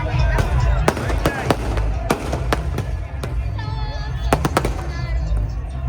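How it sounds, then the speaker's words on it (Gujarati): Firecrackers pop and crack in rapid, irregular bursts over a steady low rumble and background chatter, some blasts sharp and close, others farther off. "અડધો કલાકથી ફટાકડા ચાલુ છે."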